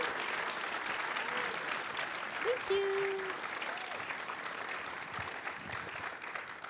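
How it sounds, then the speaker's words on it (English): Sustained applause from a church audience at a Sunday worship service for Forrest, a graduating senior, a dense even patter of many hands, with a brief spoken thanks over it. "Let's give Forrest a big round of applause."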